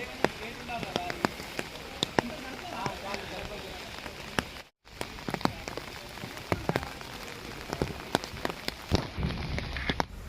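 Heavy monsoon rain in Araku patters loudly and steadily on nearby surfaces, with sharp drips and splashes scattered throughout, a brief dropout midway.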